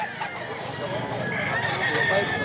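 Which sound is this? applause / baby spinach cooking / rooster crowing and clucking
rooster crowing and clucking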